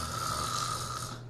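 A person snores with one long, steady, rasping breath, heard close and continuous.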